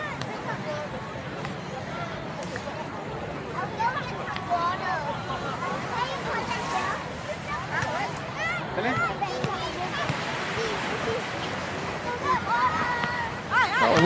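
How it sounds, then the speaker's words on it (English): Wind and surf at Siloso Beach in Singapore make a steady broadband roar with gusts buffeting the microphone, while nearby voices and crowd chatter mix into the ambience throughout. "It's windy and breezy over here."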